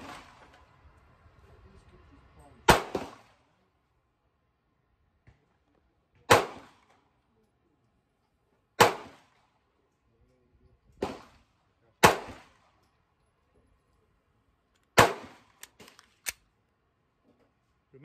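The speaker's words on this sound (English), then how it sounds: "I'm gonna see if I can get myself shooting with my handgun canted at 45 degree" Handgun shots fired at a shooting range with the gun canted at 45 degrees, six or seven sharp loud cracks spaced a few seconds apart, each decaying quickly into near silence between shots.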